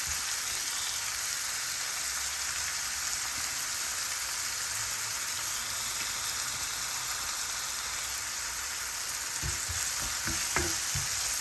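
Chopped onions fry in a pan and are stirred, giving a steady, close sizzle that holds evenly throughout, with a few soft scraping knocks from the stirring near the end.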